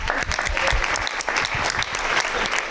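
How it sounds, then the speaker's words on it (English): Dense, sustained clapping from an audience, loud and continuous throughout with no pauses. "I think that gets a round of applause."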